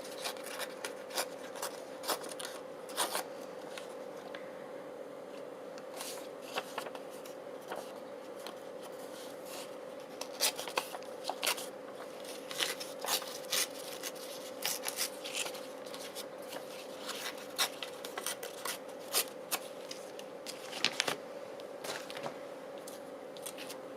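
Scraps of blue lace are torn by hand for a ballet-themed ring-bound journal, giving quiet, intermittent rasping and crackling bursts against a faint steady hum.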